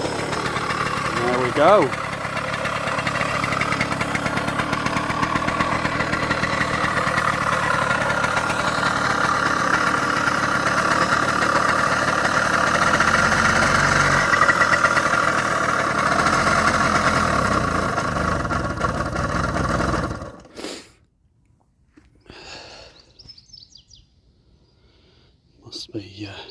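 A 1983 Suzuki JR50 small motorcycle engine running loudly and steadily close by, a buzzing idle that cuts out suddenly near the end, leaving near silence; a voice speaks briefly.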